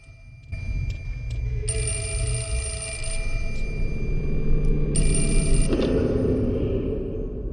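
An electronic telephone rings in the horror video game Project Zero 4, loud and close, in repeated long bursts with short gaps, over a low droning ambience.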